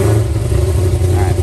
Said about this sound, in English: let's get the car fired up